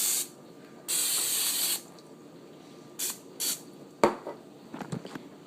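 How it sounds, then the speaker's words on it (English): A bowl is greased with cooking spray before yeast dough goes in: a long hissing spray burst, then two shorter puffs, followed by a few light knocks and clatters close by. "Now I'm going to grease my bowl real quick."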